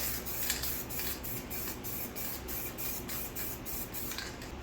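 Short repeated hisses of a can of black spray paint, about a dozen quick bursts in a steady rhythm, close by and fairly quiet.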